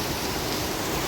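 Heavy rain pouring down in Vadnagar, a dense, loud, unbroken hiss with no other sounds standing out.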